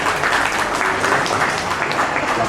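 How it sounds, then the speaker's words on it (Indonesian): Steady, dense applause from a crowd of guests at an 80th birthday party, close and loud, filling the whole moment without a break. "Terima kasih tepuk tangan dong buat Paulus."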